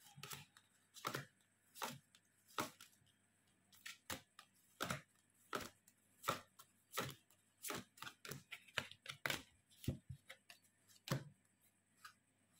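Tarot cards being cut and handled, a run of soft, sharp taps and slaps as the deck is split and cards are laid down one after another at close range, quiet and irregular, with no talking.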